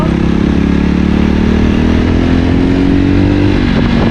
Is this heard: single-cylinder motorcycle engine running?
yes